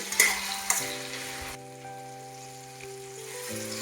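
Chopped tomato and onion sizzling in a pan for a rural-style bean-pod curry, a steady close frying hiss with a few sharp clatters of stirring near the start and a faint tonal hum underneath, no talk.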